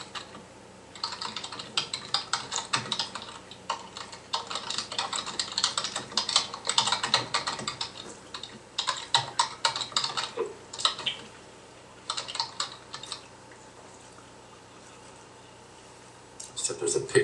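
Fingers type on a computer keyboard in bursts of quick, close clicks with short pauses between, while people talk intermittently in the background.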